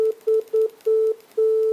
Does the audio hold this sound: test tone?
yes